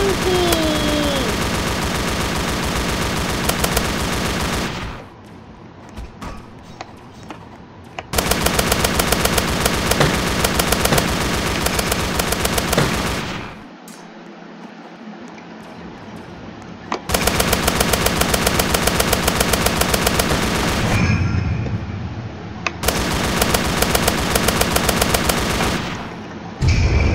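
Rapid automatic gunfire from the Roblox game Zombie Rush rattles in long, loud, continuous bursts, broken by a few quieter gaps where lower game noise carries on.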